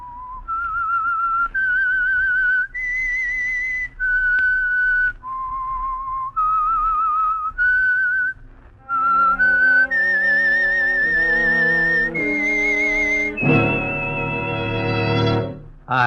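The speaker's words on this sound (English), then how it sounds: "That whistle is your signal for the Signal Oil Program," A lone whistler carries the theme tune of The Whistler radio mystery show, a clear, melodic line of sustained notes stepping up and down in pitch, ending with a fuller orchestral swell beneath the final phrases.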